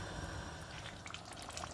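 A pot of stew for corned beef jollof rice simmers quietly, giving soft bubbling and faint drips and pops close by, low in level with no talk.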